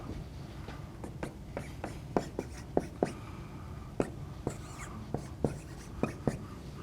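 Marker or chalk taps and strokes on a board while a calculation is written out in a lecture, a scattered series of light, crisp clicks over a quiet room with soft background noise.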